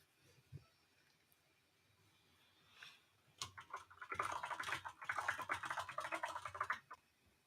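Quiet clicks at first, then a burst of rapid keyboard typing, close and fairly soft, stopping abruptly near the end.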